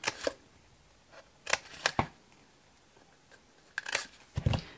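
Scissors snip through cardstock while a backpack is made, a few sharp, crisp cuts in irregular bursts close by, with quiet gaps between them.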